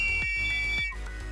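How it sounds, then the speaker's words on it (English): A shrill whistle in the video game Goddess of Victory Nikke sounds in a few sustained high-pitched pulses, loud and close, with no talking over it. "I'm blowing the whistle with all my might"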